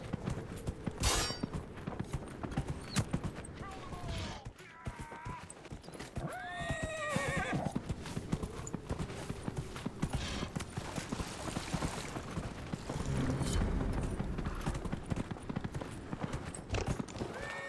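Horse neighs and clip-clopping hooves in the fantasy video game Dragon Age Inquisition, with a couple of loud whinnies rising over steady hoofbeats amid busy game ambience and effects.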